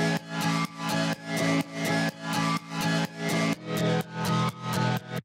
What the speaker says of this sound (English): the next thing I'm going to touch on is sort of like the main chords loop,